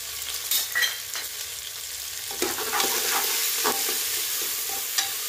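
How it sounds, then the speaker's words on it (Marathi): Onion, peanuts, green chilies and curry leaves roasting in a pan with ginger-garlic paste, a continuous close sizzle with occasional scraping stir strokes and no voices. "छान कांदा लाल होईपर्यंत आपल्याला भाजायचा आहे।"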